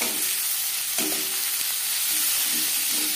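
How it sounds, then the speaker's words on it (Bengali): Chopped onion and tomato dropped into hot oil left from frying fish for a tilapia curry, giving a loud steady sizzle with a few clinks of stirring, close and without talk. "মাছ ভেজে নেওয়া তেলে দিয়ে দেব পেঁয়াজ কুচি। আর লাগছে টুকরো করে নেওয়া টমেটো।"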